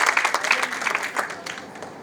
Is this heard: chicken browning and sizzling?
no